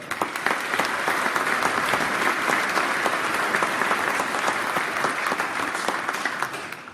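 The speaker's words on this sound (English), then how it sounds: "Round of applause, please, for" A dinner audience at an expo claps in a dense, even wash of applause that holds steady at close range from start to finish.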